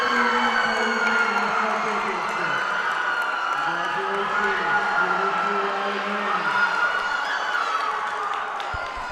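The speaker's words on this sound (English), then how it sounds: "And you can definitely hear them cheering." Spectators at a collegiate 3D archery national championship cheer and whoop in a steady, distant roar that runs throughout, with voices mixed into the crowd noise.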